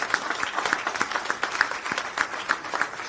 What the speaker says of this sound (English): Let's give her an applause.